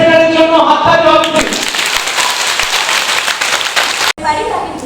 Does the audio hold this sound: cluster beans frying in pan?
no